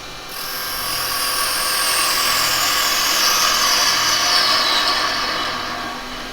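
Wood being turned on a lathe with a chisel, squaring the end of a workpiece for a small turning project: a steady, bright high-pitched cutting whine that rises in quickly, holds close and loud for several seconds, then eases slightly.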